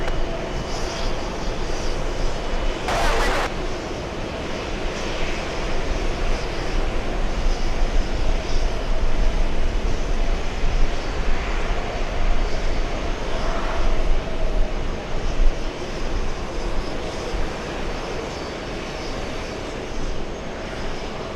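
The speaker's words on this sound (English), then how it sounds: "Delta 169 flying in from Barcelona. A330." A Delta Airbus A330 arriving at JFK from Barcelona gives a steady, loud jet roar that holds for the whole stretch, swelling slightly midway before easing off.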